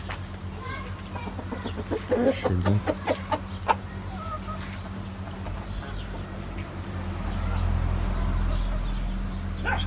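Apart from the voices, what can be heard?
chickens clucking while being fed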